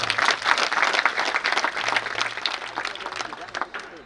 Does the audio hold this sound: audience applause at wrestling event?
yes